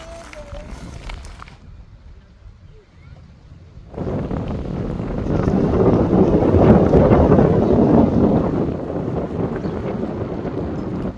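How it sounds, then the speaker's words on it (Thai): Cold wind gusting beside a lake, starting softly and then rising into a loud, steady buffeting roar against the microphone that holds for several seconds. "เป็นเสียงลมเลยค่ะพี่น้องลมจริง ๆ"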